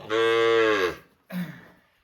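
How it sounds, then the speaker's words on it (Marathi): A Khillar bull calf gives a long, loud moo, then after a short pause a second, shorter low call, both close by. "तांडराजाचं वासरू आहे"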